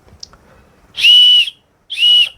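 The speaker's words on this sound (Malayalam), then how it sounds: "ഇത് ശരിക്കും ഒരു വിസിലാണ് കേട്ടോ." A chemical-free wooden toy whistle made in India gives two loud, steady blasts, the first about half a second long and the second shorter, after a tiny pip, with silence between.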